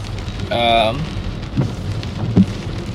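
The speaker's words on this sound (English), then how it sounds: "It's a rainy day" Rain falls steadily on a rainy morning commute, a constant hiss with a few heavier drops and a brief tonal sound early on, heard without talking.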